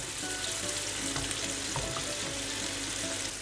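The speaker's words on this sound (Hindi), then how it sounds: "अब हमने अपने दूसरे कबाब इसमें फ्राई पैन में डाल दिए हैं।" Chicken kababs sizzle and fry steadily in a frying pan over low flame, a dense continuous crackle close by with no talking.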